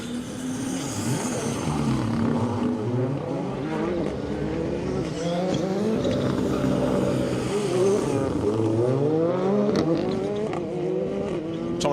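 An R5 Ford Fiesta rally car on a stage rally with a hairpin, engine loud and close, revving and shifting through rising and falling pitch sweeps as it drives past, continuous for the full stretch.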